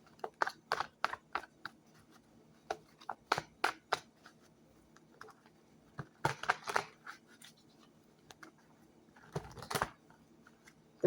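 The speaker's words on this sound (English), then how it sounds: "Shuffle." Tarot cards are shuffled in quick bursts of crisp riffling and slapping, separated by short quiet pauses.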